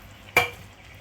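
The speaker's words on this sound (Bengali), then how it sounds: "এখন আমি জল দিয়ে দিব।" Water splashes into a hot pan of fried green plantain and ridge gourd being cooked for a thin puti fish curry, a single sudden sizzling gush that quickly fades to a low simmer, close and alone.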